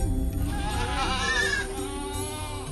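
Goats on a goat farm bleat in wavering, nasal calls that overlap for a few seconds, close and fairly loud over a murmur of background noise.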